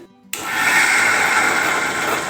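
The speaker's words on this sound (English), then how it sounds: "Let us blend it together." A blender starts abruptly and runs at a loud, steady whir, churning whole-wheat atta cake batter with a little milk, close and continuous with no speech.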